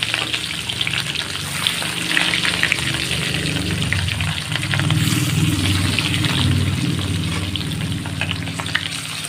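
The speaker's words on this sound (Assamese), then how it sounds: "মাছ কেইপিচ ভালদৰে ভাজি ল'ব লাগিব।" Fish pieces fry in hot oil in a kadai, a steady, close crackling sizzle that keeps going throughout, with no voices.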